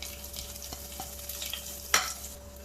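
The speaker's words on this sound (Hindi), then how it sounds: "तो तेल हमारा गरम हो चुका है, इसमें खड़े मसाले डाल देंगे।" Whole spices such as cumin and bay leaf crackle in hot oil for a Sindhi mutton curry, a soft steady sizzle with a few stirring scrapes and one sharper pop near the end, no talk.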